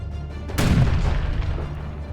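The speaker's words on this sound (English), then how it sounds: "bombarded the rebel position on Mousehold Heath with cannon fire from an artillery position" A cannon fires in a bombardment, one deep booming blast that hits suddenly partway through and then rumbles and decays slowly over a low steady background.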